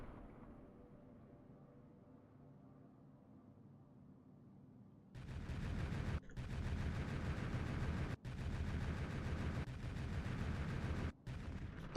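Ship weapons fire in the Space Haven space game, starting after a quiet stretch of ambient hum and turning into a loud, sustained barrage that breaks off in a few short gaps.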